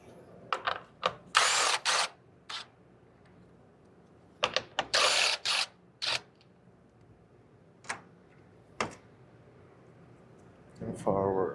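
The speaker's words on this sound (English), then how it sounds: "I'm gonna remove some bolts here." Ratchet wrench loosening bolts during a wiring harness replacement on a Genesis GV80, heard as short, clicking bursts of several seconds each with quiet gaps between them and faint handling noises.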